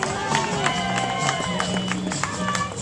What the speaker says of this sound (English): Let us cheer loudly for our first female finisher.